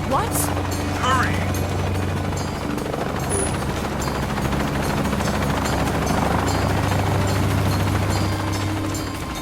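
A helicopter in the video game Shadow of the Tomb Raider gives off a steady rotor thrum and whine beneath game effects and distant voices, holding a constant level throughout.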